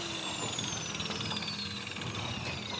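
A grinder works on a wall during demolition of a plastered wall, giving a continuous, moderately distant rough grinding roar with a faint falling whine, steady throughout with no talk.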